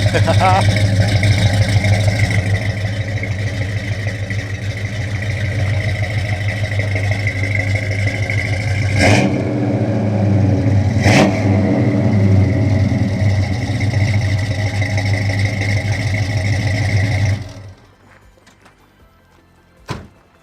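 A car engine with a modified exhaust rumbles steadily with a deep, throaty drone, with two brief knocks midway, then cuts off, leaving near silence and one last thump.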